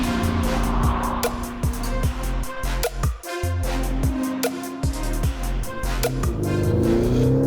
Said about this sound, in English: There's less of a shove and more of a tidal wave of thrust when you uncork the 3-litre V6 turbo diesel